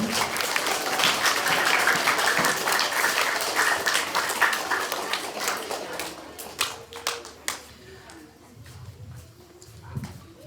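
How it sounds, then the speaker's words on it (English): Children and staff at a school assembly applaud, a loud, dense burst of clapping that thins over several seconds into a few scattered, separate claps and some shuffling noise near the end. "one big round of applause for these beautiful people"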